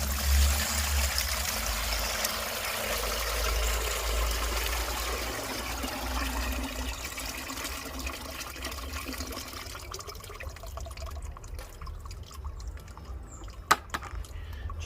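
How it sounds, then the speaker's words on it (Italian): A slow pour of a clay and water mixture through a fine sieve makes a steady trickling, splashing flow that gradually thins and fades, ending with a few faint drips. "Andiamo a versare il nostro composto lentamente al centro del retino."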